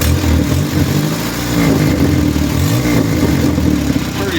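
A car engine idles after a Weber carburetor swap, running through a homemade straight exhaust with a suspected leak, a loud, close, continuous rumble with a slightly uneven pulse and no voices.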